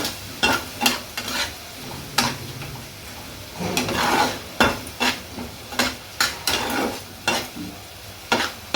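An onion-spice masala for paneer mushroom is sautéed in oil in a pan, with a low continuous sizzle under repeated rhythmic scrapes and knocks of a spoon stirring close by.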